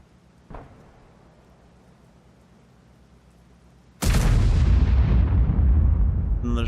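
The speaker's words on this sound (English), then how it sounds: "Another shot there." Tank gun of a Fury T6 in the video game World of Tanks fires a shell: a faint earlier pop, then one sudden massive boom at mid-clip whose heavy rumbling reverberation rolls on to the end.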